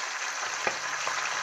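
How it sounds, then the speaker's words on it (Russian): Goat liver frying in a lightly loaded pan gives off a steady soft sizzle, broken by a couple of brief pops or stirring taps. "чтобы печеночка жарилась равномерно."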